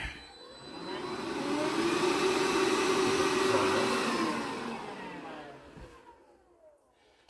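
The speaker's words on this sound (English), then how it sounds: "And I got my little vacuum cleaner here." A small vacuum cleaner whirs, its airy motor noise rising to a steady hum and then fading away.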